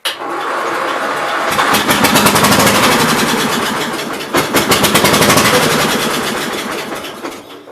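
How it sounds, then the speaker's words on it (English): A 1982 Gravely 8163-B garden tractor engine cranks over and catches, settling into a loud, steady running roar with a brief stumble partway through, close to the microphone and with no talking. "guess we'll just crank it over."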